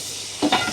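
Mutton cooking in a new pot gives a steady sizzle, then a brief scrape of stirring near the end of the short moment, heard close and alone.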